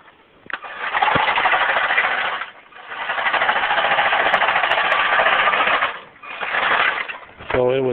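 A small robot drives forward with rolling parts flapping as they turn, making loud close buzzing, rattling bursts in three runs separated by short pauses, with a brief voice at the very end.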